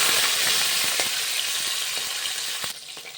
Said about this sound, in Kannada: ನೋಡಿ ಎಣ್ಣೆ ಚೆನ್ನಾಗಿ ಕಾದಿದೆ ಈ ಒಗ್ಗರಣೆಗೆ ನಾನು ಸ್ವಲ್ಪ ಹಸಿಮೆಣಸು ಕೊತ್ತಂಬರಿ ಸೊಪ್ಪು ಈರುಳ್ಳಿ ಮತ್ತು ಟೊಮೆಟೊನ ತೊಗೊಂಡಿದ್ದೀನಿ ಈಗ ಹಸಿಮೆಣಸಿನ ಹಾಕ್ಕೊತಾ ಇದ್ದೀನಿ